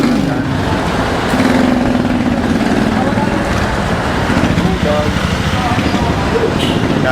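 A motorcycle riding through heavy city traffic on EDSA between Pasay and Makati, with a steady engine drone, passing vehicles and rushing wind noise throughout, loud and close.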